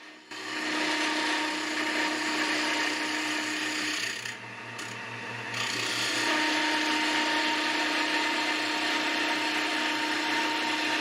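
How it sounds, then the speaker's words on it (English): Wood lathe turning a multicolored scrapwood blank with carbide tools, a steady hissing, scraping whir with a low motor hum that briefly drops around the four-to-six second mark, fairly faint, no voices. "These carbide bits actually do a great job on the lathe"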